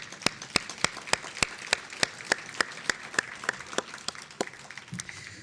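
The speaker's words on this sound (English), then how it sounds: "Let's give a round of applause for Tracy." A small audience applauds Tracy, a mentor honoured during a graduation-style thank-you speech. The clapping is steady and rhythmic, with sharp, evenly spaced claps heard at a moderate distance for several seconds before tapering off.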